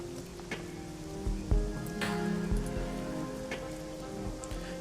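Steady rain patters in a Hong Kong street scene of the Shadowrun Hong Kong video game, a continuous wash of drops with occasional louder splashes and thuds, close and even, with no one talking.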